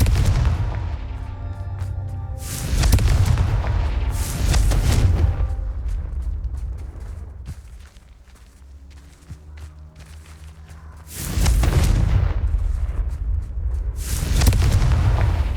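Confringo blasting spells explode in the video game Hogwarts Legacy. Several loud, deep booming bursts come in pairs, split by a quieter stretch of low rumble.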